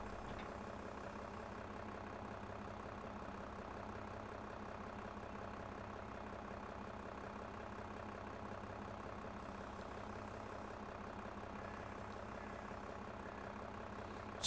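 Tractor engine in Farming Simulator 22 on Xbox Series X, a steady, unbroken idling drone that holds at an even level throughout with no talking.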